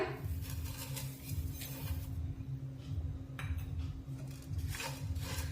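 Grated fresh coconut and sugar are stirred in a pan over a low flame for coconut vadi, giving a steady scraping and rustling of a spoon against metal with occasional light clinks over a constant low hum.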